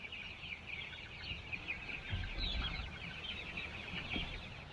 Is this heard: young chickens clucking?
yes